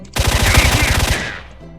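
A loud, rapid burst of automatic gunfire in S.T.A.L.K.E.R.: Shadow of Chernobyl, about a second of fast repeated shots, then a short fading echo.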